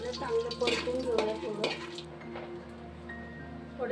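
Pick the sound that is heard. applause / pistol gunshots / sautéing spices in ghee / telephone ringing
sautéing spices in ghee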